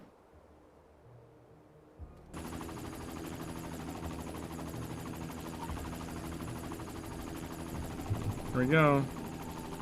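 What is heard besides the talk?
helicopter in video game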